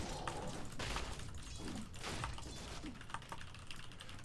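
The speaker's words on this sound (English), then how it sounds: "It's too bad I was typing there" Rapid computer keyboard typing comes in close, uneven bursts of clicky keystrokes over faint game sounds during a Dota match.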